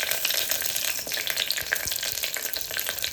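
Mutton sizzles in a pan while cooking for mutton sukka masala, making a steady, moderate frying hiss with small crackles and a faint stir partway through.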